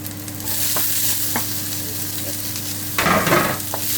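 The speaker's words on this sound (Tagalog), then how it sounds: "Gisa-gisa lang. Konti lang ang ginamit nating mantika" Garlic, ginger and onion sauté in a little oil for Pinoy-style chicken curry, a loud, steady close sizzle with a few stirring scrapes and a brief louder burst near the end.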